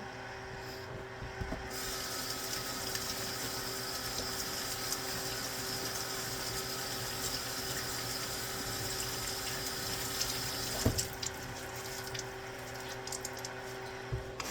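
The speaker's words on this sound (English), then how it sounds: "so I just rinsed the arugula, or I mean the kale, just the green kale" Kitchen tap running steadily while green kale is rinsed, a continuous even rush of water close by, fairly quiet, with small splashes and a clunk near the end and no talking.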